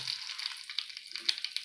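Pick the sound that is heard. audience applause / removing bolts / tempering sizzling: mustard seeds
tempering sizzling: mustard seeds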